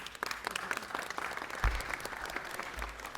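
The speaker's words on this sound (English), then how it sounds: "Give her a big round of applause." A room full of people claps steadily at a Los Angeles City Council meeting, a dense patter of applause at moderate distance, with no voices standing out.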